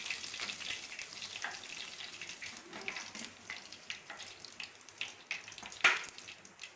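Fish pakoras frying in hot oil give off a soft, continuous sizzle with crackles and occasional pops. Light clinks and stirring sounds come through, with one sharper spatter near the end.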